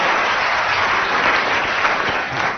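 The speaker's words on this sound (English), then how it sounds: "It should have been a loud round of applause" A radio comedy panel show's studio audience gives a continuous round of applause at a Christmas special, an even, close wash of many hands clapping with no break.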